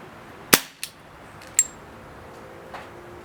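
An Umarex Beretta M92 FS .177 caliber CO2 pellet pistol fires one sharp, close crack, followed by a few fainter clicks and a light metallic tick.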